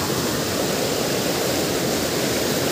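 Strong, powerful rushing river water after heavy rain, a loud dense roar that stays steady and continuous throughout without pause, close at hand.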